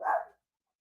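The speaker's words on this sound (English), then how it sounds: "Sorry, my dog was going insane." A single short, sharp bark from a pet dog, close and fairly loud, then silence.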